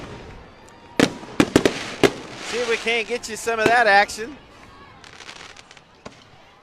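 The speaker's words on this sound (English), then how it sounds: "There's the fireworks." Fireworks go off after a high school football game, a run of sharp loud pops and crackles, partly distant, with an announcer talking over them.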